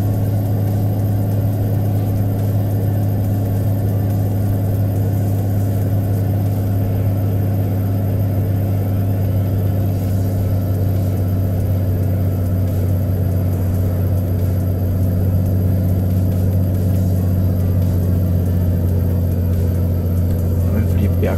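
Heavy truck engine in American Truck Simulator after a downshift, a steady deep diesel drone with a strong low hum, loud and continuous throughout, with no talking.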